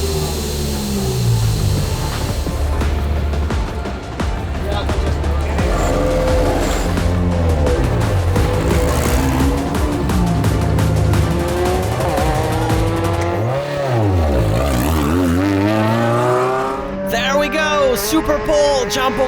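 Lotus Elise Cup race car heard onboard at Vallelunga during a race, a loud engine wailing up and down through the gears with the revs swooping on braking and tyres squealing through the corners, with a voice speaking over it.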